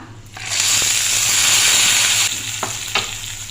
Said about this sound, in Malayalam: ഒരു അര ടേബിൾ സ്പൂൺ വെളിച്ചെണ്ണയിൽ നമുക്ക് വറുത്തോട്ടാം